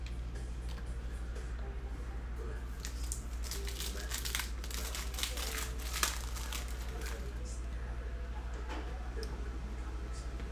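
A 2019 Panini Optic football hobby pack is torn open, with crisp crinkling and ripping of foil wrapper in bursts near the mic over a low steady hum, and faint talk in the background.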